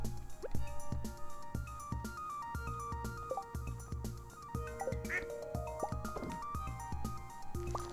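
Ducks in a video game quack in a repeated rhythmic pattern, loud and close, over a tonal electronic background, with a voice reacting faintly underneath.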